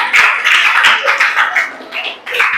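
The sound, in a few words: classroom clapping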